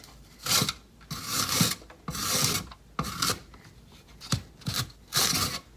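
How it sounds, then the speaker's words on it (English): A large carrot is pushed down the grooved side of a box grater in repeated rasping strokes, about seven close, loud scrapes with short gaps between them and no voices. "If you have one of these grating boxes, you can pick the side that has those grooves"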